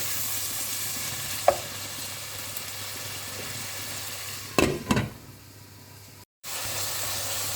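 Tomatoes and other ingredients sauté in a pan for a home-style fish curry, a constant close sizzle with a few sharp spatula knocks partway through and a brief cut to silence near the end.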